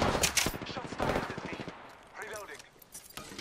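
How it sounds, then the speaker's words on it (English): Rapid bursts of automatic gunfire crackle in a first-person shooter video game, close and loud, with a few quick volleys packed into a few seconds before the shooting thins out. "Listen up, I'm getting shot at."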